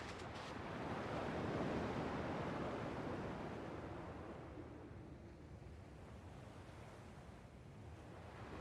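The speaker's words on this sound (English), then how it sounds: "At least the waves sound the same." Ocean waves wash onto a shore in the video game Kingdom Hearts II, a soft broad rushing surf that swells and then eases into a faint steady hiss, with no voices.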